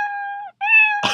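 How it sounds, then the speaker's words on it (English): Two short, tonal synthetic meows in quick succession, bright and close, followed by a brief burst of noise. "let's go ahead and play sound. Meow."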